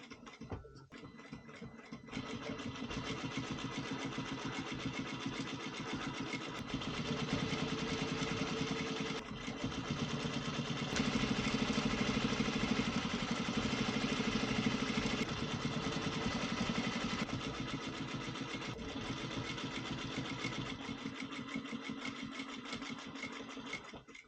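A sewing machine stitching a waterproof softshell jacket hums steadily for over twenty seconds with a rapid mechanical chatter, speeding up slightly in the middle, heard close and alone after a few brief starting clicks.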